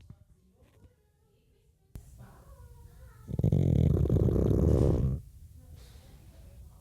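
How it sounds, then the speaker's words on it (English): A pug snoring somewhere behind the microphone, quiet at first, then a loud, sustained snorting rasp for about two seconds before it drops back to a soft breathy rumble. "the audio listeners will very much have heard that snoring of the pug behind me"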